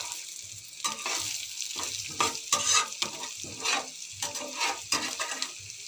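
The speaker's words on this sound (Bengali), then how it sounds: "বেশ সুন্দর পালট করে আমি ভেজে নেব মশলার সঙ্গে।" Boiled potatoes frying with spices in a pan, stirred and turned in repeated bursts of scraping and sizzling over a steady hiss, close and fairly loud, with no talk.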